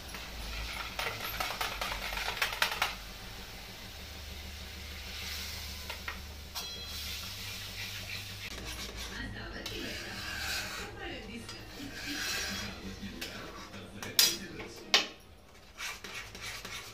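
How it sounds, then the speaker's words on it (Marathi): A metal spoon stirs cooked food in a pot, with scraping, rubbing and light clinks against the sides, and a few louder knocks near the end. "आता ह्यात जे होतं ना ते मी हलवून टाकणार आहे बघा"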